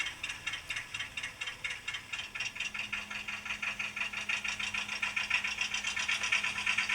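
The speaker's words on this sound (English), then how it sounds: "Those Buda engines have a really unique sound to them" A model locomotive with a Buda engine runs steadily, giving a fast, even rattling chug with a bright metallic ticking texture that grows slightly louder over the seconds.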